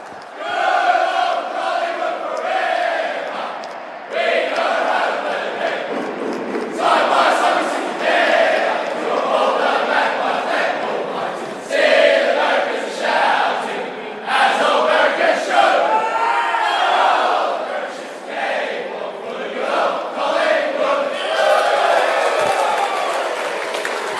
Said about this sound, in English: the Pies, as they're gathering to sing the song in a moment